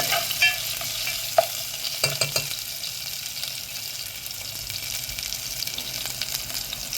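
Spices sauté and crackle in hot ghee for a dal tadka, a steady close sizzle with a few sharp spoon or pan knocks early on and no voices.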